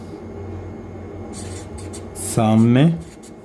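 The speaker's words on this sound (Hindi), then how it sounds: "आपको सामने वाले दोनों लोगों का नाम लिखना है" Pen scratching names onto a paper amulet, soft rubbing strokes close by, with a brief louder scrape near the end amid light background noise.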